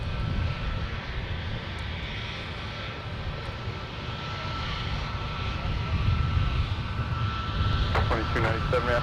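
An Airbus A321neo airliner's jet engines at Minneapolis–Saint Paul airport, a broad steady roar that builds slightly over several seconds, heard from a distance with people talking over it.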